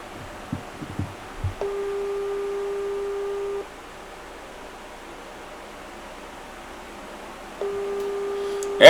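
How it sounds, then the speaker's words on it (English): A telephone ringback tone sounds twice while a call is placed, each ring a steady two-second electronic purr separated by a long pause, with faint rustling before the first ring and a click at the end. "Hey, Sylvester, pick up the phone if you're anywhere nearby"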